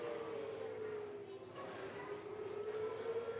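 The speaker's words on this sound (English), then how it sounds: "They've done the tornado sirens." A tornado siren plays at a high school baseball game, its long wailing tone sliding slowly down and back up without a break, fairly loud and steady over faint crowd and ballpark murmur.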